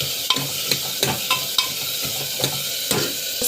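Taro cubes sautéing with spices in a pan give a continuous soft sizzle, broken by a series of regular scraping and tapping stirs of a spoon against the pan, close up with no voices.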